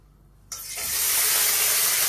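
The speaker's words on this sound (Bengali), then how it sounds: "এখন একটু আবার করলা ভাজি করুম।" Bitter gourd (karela) going into hot oil in a pan for a Bangladeshi fry: after a quiet moment a sudden loud sizzle bursts up and settles into a steady, close, hissing fry with no talk.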